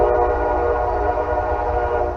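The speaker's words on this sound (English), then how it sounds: "So there goes the train." A loud, steady rumble of a passing train with a sustained horn tone droning over it, constant throughout with no speech.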